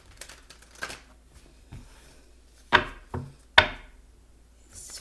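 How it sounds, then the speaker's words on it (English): Tarot cards are shuffled by hand in a quiet room: soft scattered riffles and taps, with three sharper slaps near the end, close and fairly faint. "let's shuffle this and see what"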